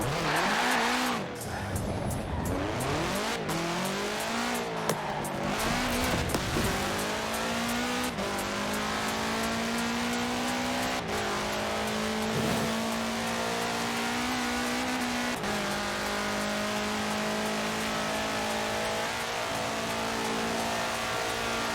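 A 1966 Volkswagen Beetle fitted with a 2.5-liter flat-four turbo engine in the racing game Forza Horizon 4 revs hard through several gear changes and then settles into a long, loud, sustained high-speed drone, with tires squealing near the start.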